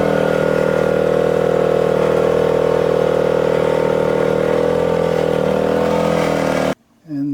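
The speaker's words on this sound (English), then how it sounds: "Now we've started our generator." A boat's generator runs as a steady, loud motor drone with a constant hum and a slight shift in pitch near the end, before cutting out briefly and returning.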